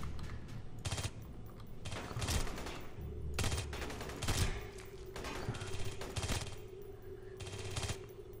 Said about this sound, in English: I'm shooting you in the head many times